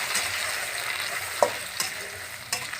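Onions frying in a pan for a potato, pea and aubergine curry, a steady close sizzle with a few short scraping stir knocks toward the end.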